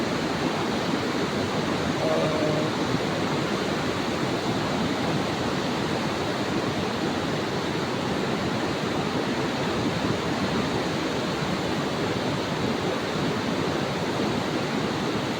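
A dense, constant roar of the swollen Kali Gandaki river in flood fills the whole clip, loud and unbroken, carrying firewood along in full flow.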